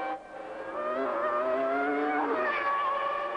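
A 1990s Formula 1 car spinning out after contact with another car, its high engine whine sliding in pitch alongside a tire skid, loud and close, sustained over several seconds and then rising again as the engine revs.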